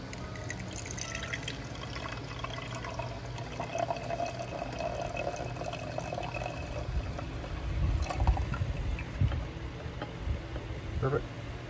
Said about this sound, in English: I'm just going to pour that in this temporary stock pot.